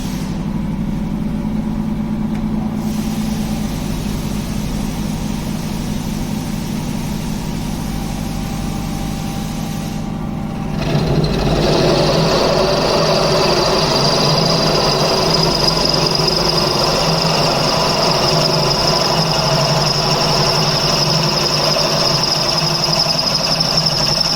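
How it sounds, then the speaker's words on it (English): A radial drill machine runs steadily with a motor hum, then shifts into a louder, grinding whine with a high drilling tone from a 25 mm drill bit that continues to the end. "now we are going to start the drilling operation with 25 drill bit"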